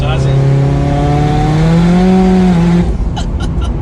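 Turbocharged Mitsubishi Lancer Evolution X with a stock axle-back exhaust and a boost-activated wastegate test pipe, its engine holding a loud, steady droning tone for about three seconds before cutting off abruptly.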